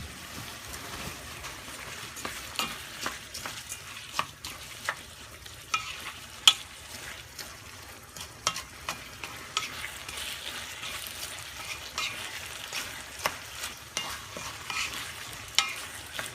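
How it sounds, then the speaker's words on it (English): Chicken breasts and white rice are stirred in a pot, with soft, repeated scraping clicks and taps of the spoon spaced irregularly over a quiet background sizzle. "So now we're stirring it."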